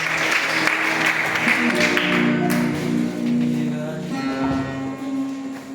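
A church congregation applauds and cheers as a pastor is called up, a steady spread of clapping mixed with raised voices and sustained tones underneath.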